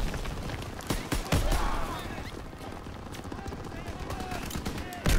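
Dense gunfire and explosions in Call of Duty WWII campaign combat, with sustained bursts and heavy booms filling the whole stretch, loud and continuous, while a player talks over it.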